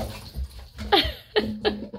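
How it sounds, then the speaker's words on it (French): A pet dog whimpers indoors in short high whines, three or four brief cries spread over two seconds, fairly close and moderately loud with no talk over them. "Mon chien."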